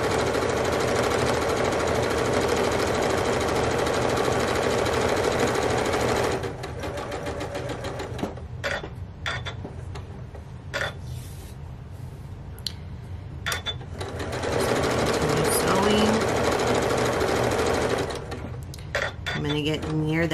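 A sewing machine stitches a baby bandana bib with a steady, loud mechanical whir. It pauses for several seconds in the middle, making brief short bursts, then resumes running continuously near the mic.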